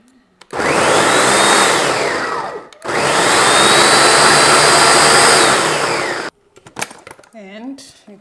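A kitchen blender purees peppers without added water in two long, loud bursts of steady whirring, separated by a brief pause. A voice follows at the end.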